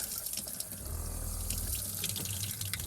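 Hot water runs steadily from a tap into a sink inside a camper van, a continuous close splashing rush with no talk over it.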